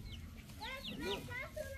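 A hen clucking in a series of short warbling calls over a steady low background rumble, close and moderately loud.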